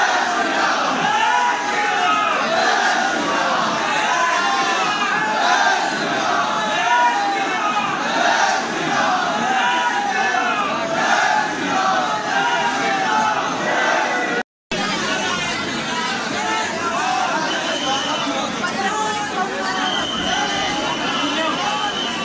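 A dense crowd of pilgrims near Hanumangarhi temple in Ayodhya, a loud continuous babble of many voices with shouts and calls rising from it, close and unbroken apart from one brief cut.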